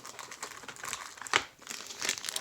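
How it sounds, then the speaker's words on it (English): A new servo for a Tamiya Hornet RC car build is unwrapped from its crinkly plastic bag, with close, continuous crackling and rustling and a couple of sharper crinkles, no talking. "I have my new servo in this bag, which I'll unwrap"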